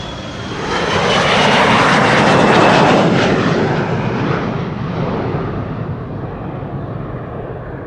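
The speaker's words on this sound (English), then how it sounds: "Cargolux 747." A Cargolux Boeing 747 cargo jet departs Amsterdam Schiphol Airport, its engines a loud broad roar that swells past over a few seconds and then slowly fades with distance.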